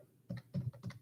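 Three quick keystrokes on a computer keyboard, soft and close-up clicks in a short uneven burst, with no voices.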